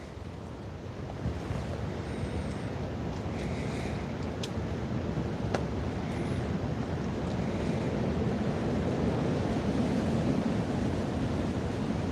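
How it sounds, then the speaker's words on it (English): Northwest wind blows steadily over a muddy cornfield in Arkansas, a broad continuous rushing roar heard from a ground blind, with a few faint ticks and no talk. "I don't know if you can hear that wind coming in"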